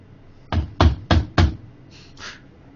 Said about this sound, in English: a knock comes at the door